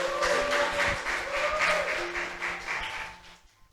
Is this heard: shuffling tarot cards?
no